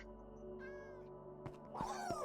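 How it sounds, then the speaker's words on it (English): Cats meowing in the Minecraft video game, a short tonal mew followed by a louder, drawn-out meow over a steady low background hum. "There's more doggies and cats in here too."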